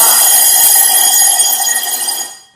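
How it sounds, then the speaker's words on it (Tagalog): A loud, shrill electronic buzzer on a battery energy tester sounds continuously for about two seconds, then cuts off abruptly. "Tingnan natin kung iilaw ba at tutunog yung ating buzzer."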